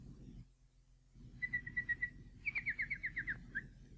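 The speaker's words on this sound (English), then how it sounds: "do you hear that nightingale singing in the wood?" A nightingale sings in a wood as a staged sound effect, with a short run of clear whistled notes and then a longer series of rapid, repeated chirping phrases, bright and fairly close over a faint low background.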